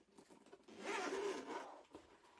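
Zipper on a Hermitshell hard EVA travel storage carrying case being pulled open, a continuous scratchy zip lasting about a second, close and clear, followed by a short tug, with no talking.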